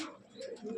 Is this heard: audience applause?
no